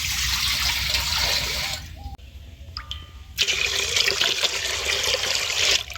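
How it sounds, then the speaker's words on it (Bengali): Water runs into a pot for steaming bhapa puli pitha. It sounds like a close, hissing pour that stops briefly partway through, with a few small clinks, and then resumes strongly. No one speaks. "তো তার জন্য এই যে জল দিয়ে দিচ্ছি।"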